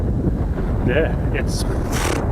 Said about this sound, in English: So we are back in the wind, guys. So sorry if you can't hear us.